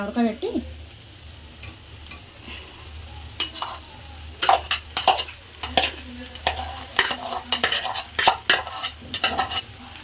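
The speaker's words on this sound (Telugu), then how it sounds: "ఇలా ఆలు వేసి బాగా కలుపుకోవాలి." Potatoes, half-boiled, are stirred and mixed in a frying pan while making alu gongura bonda, with repeated scraping and clinking strokes of a spoon over a low background sizzle, getting busier and louder toward the end.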